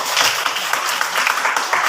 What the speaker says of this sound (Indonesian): Coba beri tepuk tangan untuk kelompok.